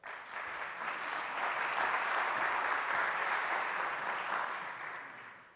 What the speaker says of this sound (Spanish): por favor, un aplauso también para él